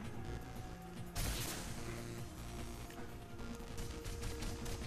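Gunshots in the action game Remember Me, a sharp burst of fire followed by scattered, irregular shots over a dense, busy game soundscape.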